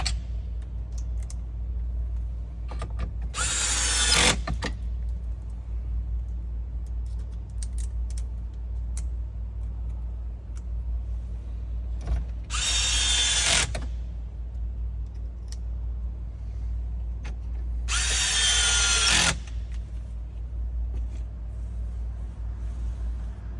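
A power drill drives four screws back into a car's dashboard display mount, in three separate bursts of a few seconds each against a steady low hum, with no talking.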